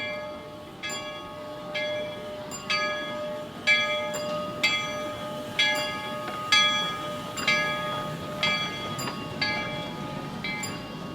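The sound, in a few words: railroad crossing bell dinging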